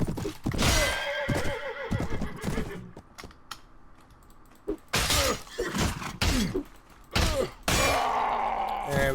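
Horses neigh and whinny repeatedly amid a video game battle in A Clash of Kings, loud and close, mixed with hoof clops, clashing impacts and a few sharp clicks between bursts.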